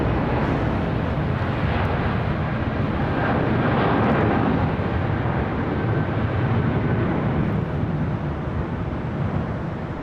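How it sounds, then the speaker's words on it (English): A Cathay Pacific Boeing 777-300ER airliner rolls along the runway at LAX, its jet engines giving a loud, broad roar that swells and holds steady throughout, with no speech over it. "Cathay Pacific Flight 885 heading back to Hong Kong, the 777-300ER rolling down to 25 right there on the south side."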